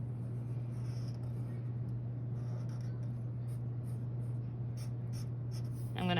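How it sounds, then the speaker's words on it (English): Colored pencils scratching over paper while a plant contour drawing is filled in, a soft, steady scraping in short strokes over a constant low hum. "And then we're going to color these using colored pencils."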